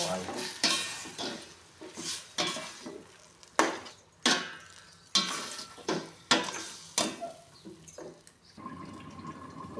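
Chicken curry being stirred in a pot, the spoon scraping and clanking against the metal in about a dozen brisk, close strokes with short pauses between them.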